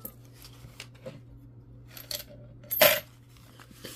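Copper pennies drop from coin rolls with a bright metallic clatter of several coins landing together, preceded by a few faint clicks and rustles at close range, with no talking.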